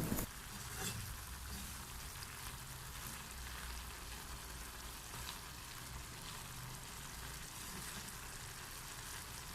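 Mixed rice ingredients fry in a pan with a steady, even sizzle that runs unbroken and fairly quiet throughout, with no voices over it.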